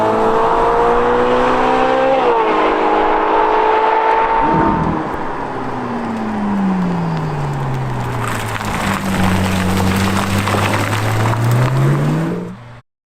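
A stock-exhaust Ferrari 458 with its naturally aspirated V8 revs loudly and continuously, its engine note climbing and dropping through the gears, then swooping down again as it accelerates and passes, cutting off abruptly at the end.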